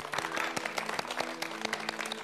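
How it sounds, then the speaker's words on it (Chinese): An audience at a televised Henan opera stage competition bursts into lively, sustained applause, a thick wash of many hands clapping that holds steady throughout. "为我们的每一位选手骄傲，为自己鼓掌。"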